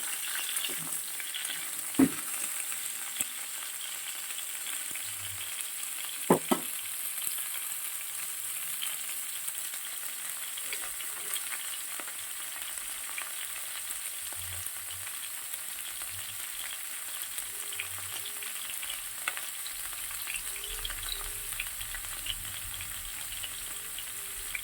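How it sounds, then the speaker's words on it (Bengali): Cauliflower pieces fry in a pan with a constant close-up sizzle that lasts throughout, dotted with occasional sharp clicks and crackles, with no voices. "ফুলকপিটা আগে থেকে একটু ভেজে তুলে নেবো"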